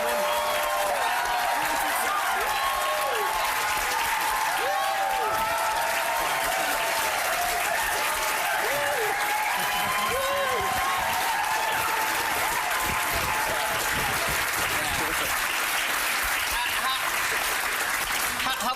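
An audience at a Kids in the Hall press event breaks into loud, sustained applause that stays thick and even for nearly twenty seconds, with no speech over it.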